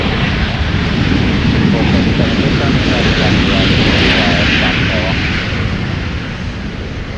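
An airliner landing on runway 12 left at Minneapolis–Saint Paul airport sends out a loud, broad rumbling roar that holds steady and then begins to fade near the end, with faint voices underneath.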